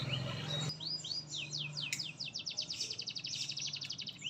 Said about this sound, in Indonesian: handphone di atasnya itu kita puterin suara-suara burung juga ya guys ya, itu tujuannya buat pancingan